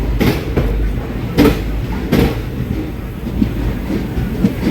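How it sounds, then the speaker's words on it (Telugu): The SMVT Bengaluru–Howrah Express rolls past at Renigunta Junction, loud close rumble with rhythmic wheel clacks over rail joints recurring every second or so. "ఇది ఎస్ఎంబిటి బెంగళూరు హౌరా ఎక్స్ప్రెస్ అనుకుంటా"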